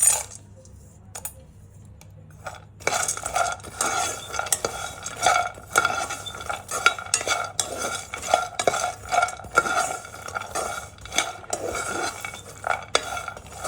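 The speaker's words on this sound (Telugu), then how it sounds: "సన్ఫ్లవర్ గింజలు కూడా వేస్తున్నాను" Sunflower seeds dry-roast in a pan, stirred with a utensil: after a quiet start, a dense run of rattling, scraping clicks that rises and falls in rhythm with the stirring; no voices.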